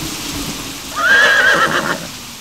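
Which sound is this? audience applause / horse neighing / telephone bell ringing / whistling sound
horse neighing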